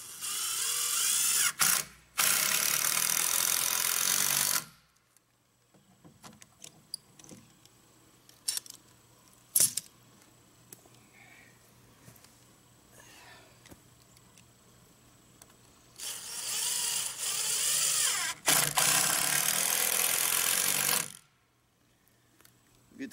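Clamps being tightened on garage gate posts, heard as two long stretches of loud, steady mechanical whirring, like a power driver, with scattered clicks and knocks between them and no talk.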